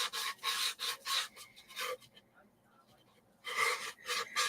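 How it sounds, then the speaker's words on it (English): Sanding along an edge by hand, a series of short, rasping rub strokes in a steady back-and-forth rhythm, close and fairly loud, pausing for about a second and a half before resuming. "I'm going to sand the edge a second."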